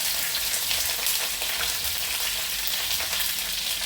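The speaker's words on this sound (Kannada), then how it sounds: "ಈಗ ಇಲ್ಲಿ ನೋಡಿ ನಾನು ಕರಿಪತ್ತವನ್ನು ಹಾಕ್ತಾ ಇದ್ದೇನೆ" Curry leaves fry in hot oil, giving a steady, close, crackling sizzle with fine popping spatter throughout and no talking.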